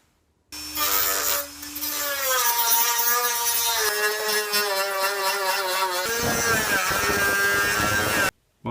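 Close and loud, a Dremel cuts the edges off a motorcycle fairing with a steady high whine that shifts pitch as the cut goes on, stopping abruptly after about eight seconds.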